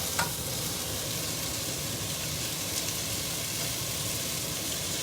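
Beef bourguignon sears over high heat while being stirred in the pan, giving a steady, loud broadband sizzle that holds unbroken for several seconds with no talking.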